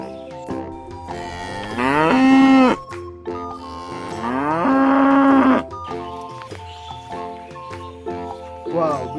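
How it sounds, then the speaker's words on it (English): A black-and-white cow lets out two long, loud moos, each swelling and then breaking off, with quieter sounds in between. "White and black color cow."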